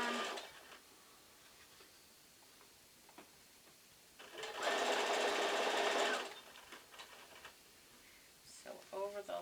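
Stitching a block of the Solare quilt, a sewing machine whirs in a loud, steady run of about two seconds, framed by quieter ticks, handling of fabric and short bursts at the end.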